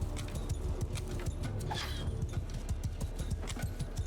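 Mounted horse archers gallop in Mount & Blade II: Bannerlord, a quick, steady drumming of hooves close by with a busy battlefield wash behind it and a faint whinny partway through.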